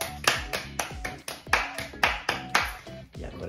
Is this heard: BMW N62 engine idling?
no